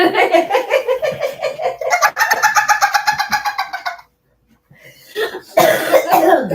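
A woman coughs in a rapid, rasping series of hacking bursts, pauses briefly, then breaks into another loud round of coughing.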